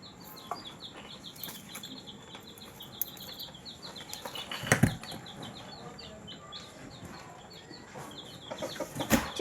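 Pet hens cluck and chirp in quick, light bursts, with occasional wing flapping and rustling, fairly close and moderately loud.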